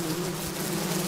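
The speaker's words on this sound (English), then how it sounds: "Bees, my god." A swarm of bees makes a steady, dense buzz that fills the whole moment at constant loudness, close and with nothing else heard over it.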